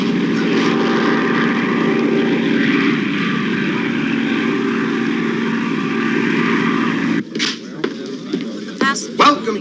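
An airplane landing sound effect in a radio play: a steady, loud propeller engine drone that suddenly cuts off, followed by scattered clattering bumps and knocks.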